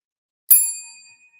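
A single clear bell strike, bright and close, ringing out and fading over about a second in otherwise silence.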